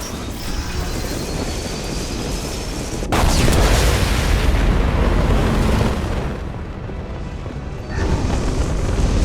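A loud, deep explosion in the video game Mass Effect 2 erupts with a sharp onset, then a long roaring rumble, followed by a second heavy blast near the end.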